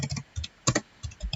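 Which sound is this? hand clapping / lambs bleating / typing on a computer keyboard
typing on a computer keyboard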